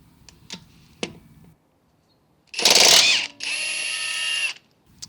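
A Hercules 1/2 in. high-torque impact wrench with extended anvil removing a lug nut: a few sharp ticks, then a loud, rough hammering burst that gives way to a steady high whine as the nut eases out, followed by quiet.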